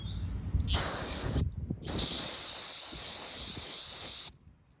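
A loud, close aerosol brake cleaner spray hissing in two long bursts onto rusty parts of a 2004 Dodge Ram 2500 5.7, the second lasting a few seconds before cutting off sharply.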